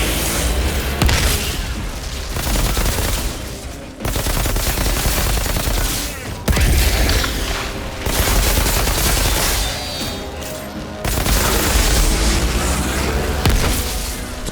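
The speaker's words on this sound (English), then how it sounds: "Let's put our rifle to the test here." Sustained rifle fire in the video game Outriders: dense bursts of shots with booming impacts rolling over one another, loud and continuous for many seconds, with a few pauses between volleys.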